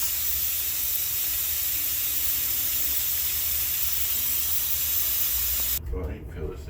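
An Instant Pot releases pressure after cooking with a loud, steady hiss of escaping steam for several seconds. The hiss then cuts off abruptly, and a voice is faintly heard afterward.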